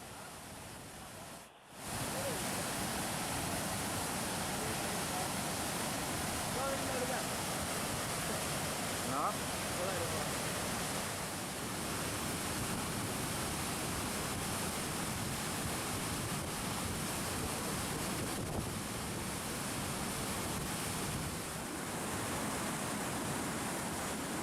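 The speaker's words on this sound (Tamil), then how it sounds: "மணிமுத்தாறு அருவியில் நீர்வரத்து அதிகரித்து வெள்ளப்பெருக்கு ஏற்பட்டிருக்கிறது" Manimuthar waterfall in flood after heavy rain in the Western Ghats, a steady, dense roar of rushing water that fills the whole clip at constant loudness after a brief dip near the start.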